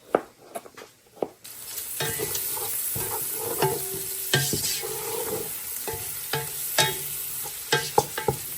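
Bacon and vegetables fry in a pan with a loud, steady sizzle and hiss, close up, broken by repeated utensil scrapes and taps as the food is stirred; a few sharp clinks come first, before the frying swells in.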